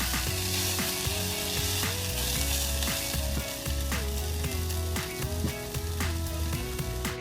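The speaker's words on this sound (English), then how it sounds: "We're going to cook this onion off for about 5 minutes" Onion frying in a cast iron Dutch oven for katsu chicken curry gives a steady close sizzle and crackle, with frequent scraping stirs and knocks against the pot.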